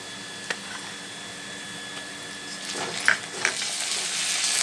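Ginger garlic paste fries with onions in a pan, giving a steady soft sizzle with a few brief clinks and stirring scrapes toward the end, close by with no talking.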